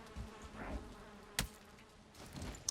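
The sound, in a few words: angry bees buzzing around hives in video game Valheim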